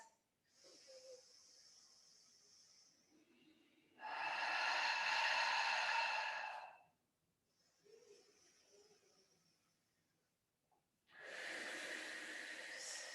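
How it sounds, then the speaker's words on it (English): Slow, deep breathing during a yoga exercise, heard close up as long alternating breaths: a soft inhale, then a longer, louder hissing exhale, repeated twice with quiet pauses between. "Take a breath."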